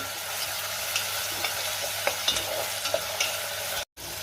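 Chopped onion fries in oil in a pan with a steady, close sizzle, punctuated by light clicks and scrapes of stirring. No one talks.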